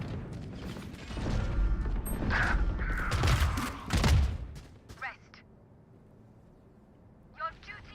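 Missiles fired in a video game roar off and burst in a dense, rumbling barrage of blasts lasting several seconds, then fade to quiet with a few small clicks, while a player talks over it.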